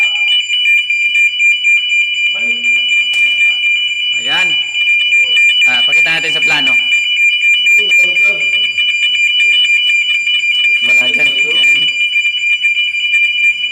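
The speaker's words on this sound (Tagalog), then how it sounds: "Ayun, nag-alarm na siya." A shrill fire alarm rings continuously at a high steady pitch, loud and close, while people talk over it in short bursts.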